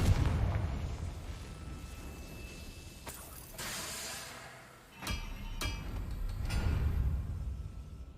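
The Confringo fire spell in Hogwarts Legacy, a deep rumbling burst with booming blasts and crackling debris that come in waves over several seconds, no speech.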